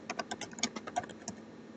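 A computer keyboard clicks as an email reply is typed, a quick irregular run of about a dozen light keystrokes, close and quiet, with no voice.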